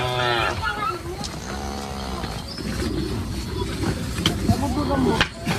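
Himba cattle low in a loud mixed scene with a few drawn-out harmonic moos near the start and around two seconds, then busy background activity and faint bird calls.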